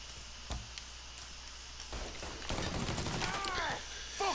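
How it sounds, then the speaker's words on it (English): Gunfire in the video game Mafia 3 Definitive Edition: scattered single shots give way to dense bursts of automatic fire, with ringing metallic clatter near the end. "Fucker won't stop shooting!"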